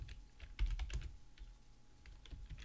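Typing on a computer keyboard while entering text into a LaTeX document, a quick run of soft clicking keystrokes with a few louder taps, close and clear with no talking.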